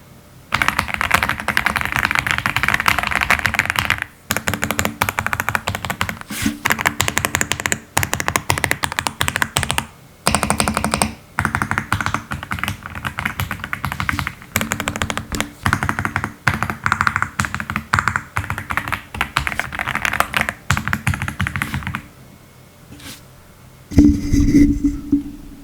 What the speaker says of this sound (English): here is a sample of what it sounds like when I type